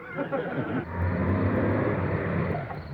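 A car engine rumbles steadily up close in a radio comedy sketch, a patrol car rolling up with a sustained low motor drone that swells slightly, alone without voices.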